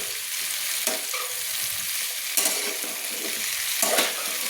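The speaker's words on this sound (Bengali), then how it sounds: "ভালো করে আমি কষিয়ে নিচ্ছি শিমগুলোকে" Flat beans with potato, tomato and onion sautéing in hot oil, a steady close sizzle with occasional stirring scrapes and clinks breaking through at intervals.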